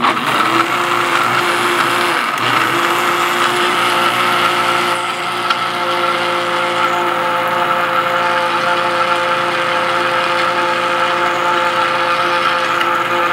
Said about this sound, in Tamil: மிக்சியோட சவுண்டை உங்களுக்கு கேட்கும் தான் நினைக்கிறேன்.